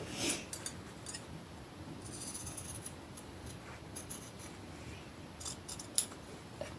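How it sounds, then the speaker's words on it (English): Scissors cutting out a fabric applique shape at close range, with quiet irregular snips and rustles spread through a few seconds and no talking. "first I just cut the generalized shape out"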